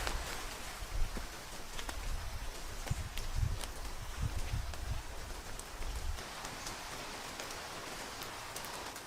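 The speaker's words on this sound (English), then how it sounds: "It's been raining for the last few days." Steady rain patters through a wet forest, a dense even hiss with scattered drops and occasional low thuds, faint and continuous with no voices.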